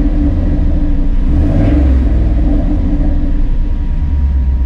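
Cobra Daytona engine with a new exhaust under throttle, a loud, steady, deep rumble heard close from inside the car with a slight rise in the middle, no talking.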